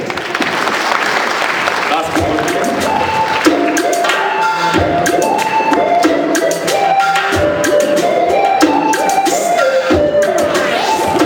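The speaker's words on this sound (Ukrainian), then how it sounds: "Встречайте ваши аплодисменты" A concert audience applauding a children's song performance: loud, continuous clapping from a crowd, with music playing underneath the whole time.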